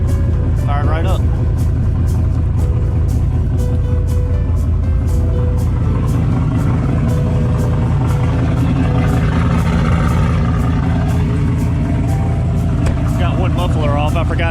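A Mazda RX7 with one muffler removed runs loud at a steady idle, its deep, rumbling exhaust drone continuing close by and unbroken for the whole stretch, with no pauses or revs.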